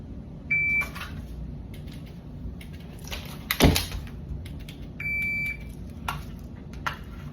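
Two electronic shot-timer par-time beeps during dry-fire pistol practice, steady tones near the start and again around five seconds, with a sharp thud or click between them and quiet room noise throughout.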